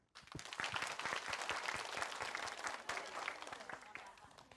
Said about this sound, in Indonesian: Di sini yang masih muda boleh tepuk tangannya.